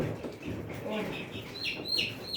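Chickens cluck and chirp softly on a poultry farm during weighing, several short calls scattered close by over background murmur and a voice.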